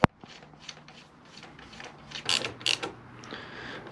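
A ratchet snugs a 12 mm bolt on a Cycra handguard fitted to a Yamaha Tenere 700 motorcycle, giving a close series of rapid, evenly spaced metallic clicks that grow louder and sharper toward the end.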